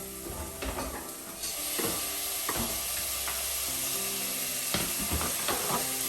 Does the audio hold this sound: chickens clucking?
no